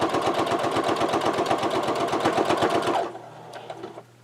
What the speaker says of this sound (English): And again, I am going to do a lock stitch on this.